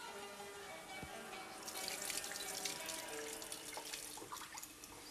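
Tap water runs steadily into a kitchen sink while something is rinsed during cooking preparation, a faint, continuous splashing stream with a few brief drips and clinks.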